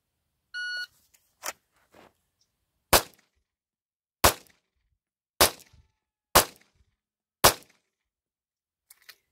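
Five sharp, loud pistol shots fired one-handed from a Taurus GX4 TORO or Ruger Max 9 during a dot torture drill, spaced about a second apart, after an electronic timer beep and a couple of softer clicks.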